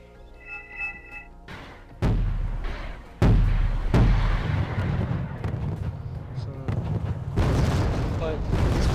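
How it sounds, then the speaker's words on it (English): Artillery fire from the Wargame: AirLand Battle video game, with heavy booms landing at intervals followed by a lingering rumble, after a brief electronic chime at the start. "He starts to fire his artillery on that position too."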